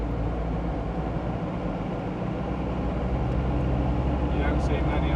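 A Land Rover with a 200 Tdi diesel engine and LT77 gearbox runs steadily, a continuous low rumbling drone at close range, with people talking over it.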